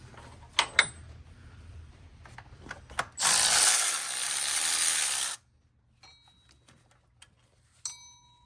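A ratchet works on the engine mount bolts of an Acura RL during a timing belt and water pump job, with sharp clicking pawl strokes, then a loud sustained rasp of rapid turning, followed by quiet pauses and a final click burst.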